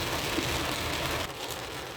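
Heavy monsoon rain pours down on a flooded, waterlogged street in New Delhi amid a traffic jam, a dense steady hiss that drops slightly in level partway through, with no voices.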